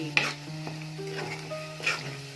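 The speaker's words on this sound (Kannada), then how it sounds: "ಸ್ವಲ್ಪ ಫ್ರೈ ಮಾಡಬೇಕು" Tomato chutney sizzles in a hot pan while a spoon stirs and scrapes against the metal, with a few brief clinks. No voices.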